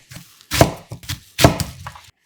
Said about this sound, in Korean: 양파 큰 거 반 개도 숭덩숭덩 잘라